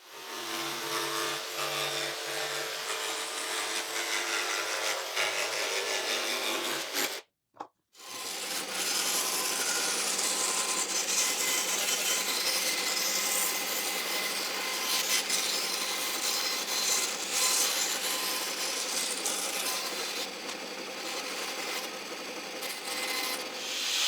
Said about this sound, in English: Corin is refining them on the belt grinder